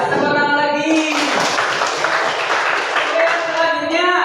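A ninth-grade class applauds together in a classroom, a dense, steady patter of many hands filling several seconds, with a voice faintly heard at the start and end.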